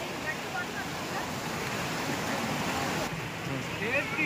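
Water pours steadily at Bamni Falls in Purulia, a dense, continuous broadband roar close by with no breaks.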